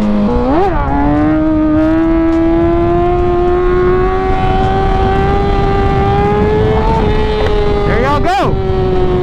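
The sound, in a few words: motorcycle revving and accelerating into a wheelie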